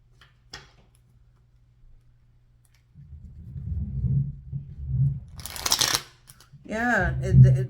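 Tarot cards are shuffled in several soft, rustling bursts, ending in a quick crisp riffle before a voice starts talking.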